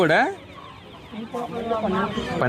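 Chickens for sale at the Kothavalasa weekly village market cluck and squawk close by in repeated loud bursts, with crowd noise in the background.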